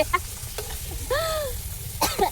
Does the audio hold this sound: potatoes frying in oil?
yes